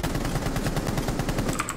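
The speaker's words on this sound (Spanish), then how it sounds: "Escuché disparos." Rapid gunfire from a multiplayer shooter video game, a dense continuous burst of shots rattling close and loud through the whole stretch with no talk.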